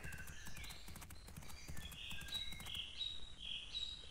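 Steady clip-clop of horse hooves at a brisk trot in the video game Pippa Funnell: The Stud Farm Inheritance, with bright chirping birdsong layered on top.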